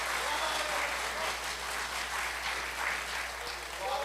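Sustained audience applause at an Urdu poetry mushaira in Riyadh, a steady dense wash of clapping throughout, moderately distant and fairly quiet, with no clear speech over it.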